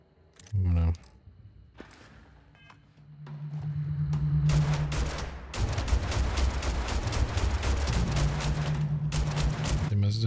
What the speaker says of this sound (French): Alors, on va tester notre petit flingue.